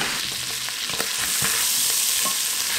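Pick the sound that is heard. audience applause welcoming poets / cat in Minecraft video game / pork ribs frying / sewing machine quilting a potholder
pork ribs frying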